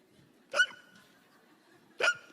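A voice imitates a hiccup, copying the cartoon character Mr. Hippo, an old Mr. Magoo–like figure: two short, sharp gulping hics about a second and a half apart, close and clear over a quiet background.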